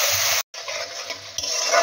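Mustard-poppy paste being stirred in a hot frying pan while cooking a fish curry, steady sizzling and frying hiss with scraping strokes, briefly cut to silence partway through.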